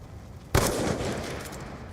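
A single loud gunshot from the Black Ops 2 Origins Zombies game bursts out after a short quiet stretch, then decays into a lingering rumble.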